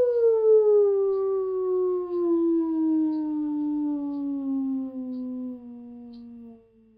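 Steady electronic tone from a waveform generator, gliding smoothly downward in pitch over about seven seconds, moderately loud and alone with a faint low hum beneath, cutting off at the end.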